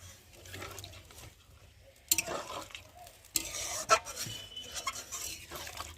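A spatula scrapes and stirs spices for a cucumber curry in a wok, with faint frying sizzle underneath and a few louder scraping strokes partway through, close and fairly quiet.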